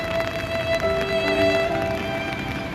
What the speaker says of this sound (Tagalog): Malakas na ulan mga katoy